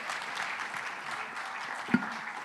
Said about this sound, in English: I think they want claps as they get off